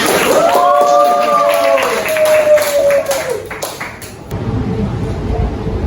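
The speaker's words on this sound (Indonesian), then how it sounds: "Tepuk tangan dulu dong untuk kalian semua." A class claps hands together in a classroom, a brief burst of scattered clapping and tapping over a sustained ringing tone, fading out within a few seconds.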